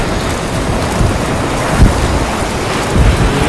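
A waterfall in Death Stranding, a constant broad rushing roar of falling water with a windy hiss, steady and close, with a couple of brief low thumps rising out of the wash.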